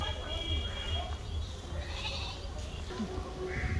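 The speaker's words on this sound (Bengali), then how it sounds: "দেখলে কতগুলো ছাগল দেখালাম।" Several goats bleat now and then near a rural home over a steady low background hum. The calls come as faint, short bursts scattered through the clip.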